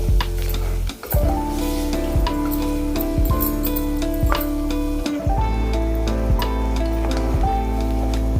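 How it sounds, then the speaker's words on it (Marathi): Mutton mince sautéing with a spoonful of salt in a pan for a village-style mutton and chickpea dish, a steady close sizzle broken by a few sharp scraping stirs, with no one talking. "एक चमचा भरून मीठ टाकलं आणि चांगलं 5 मिनिट आपल्याला परतून घ्यायचं आहे याला"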